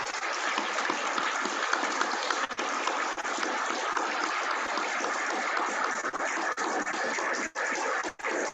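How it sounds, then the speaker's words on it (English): A round of applause at a weekly Rotary meeting, a steady dense wash of clapping from a roomful of people, continuing evenly throughout with a few short dips near the end. "please give a round of applause to Jody and her staff."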